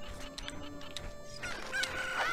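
A Cucco chicken from the video game Zelda: Ocarina of Time gives short clucking calls, the last one a higher squawk, over a steady game soundtrack, with no one talking.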